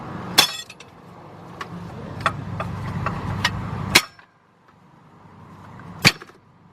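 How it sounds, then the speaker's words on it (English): A hammer taps a wrench to break loose a water pump bolt on a 2005 Chevy Express G2500 with a 6.0 engine: a series of sharp metallic clinks, three of them loud and ringing and the rest lighter, over a low background hum. "Get your hammer, and you want to just tap it"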